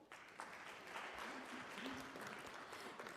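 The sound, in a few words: audience applause for a guest speaker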